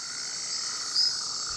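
Frogs and insects calling in a Panama rainforest make a dense, steady high-pitched chorus, one call briefly louder near the middle, with no talk.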